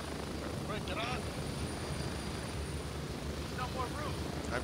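A helicopter's rotor in the video game Gray Zone Warfare thrums steadily in the background, a constant low chopping drone, while people talk over it.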